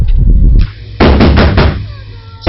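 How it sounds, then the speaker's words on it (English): Someone pounds on a door with loud, close bangs: a heavy opening thump, then a rapid run of hard knocks, with another bang at the end. "Why are you banging the door like that?"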